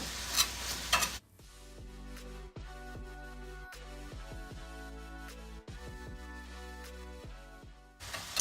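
Sausage frying in a pan for biscuits and gravy gives a loud, close sizzle at the start and again at the end, with steady tonal, music-like sound carrying through the middle.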